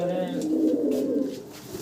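Two pigeons, a white Pomeranian pouter and a black magpie pouter, coo in low, rolling, throaty tones close by, with a continuous murmur and faint background noise.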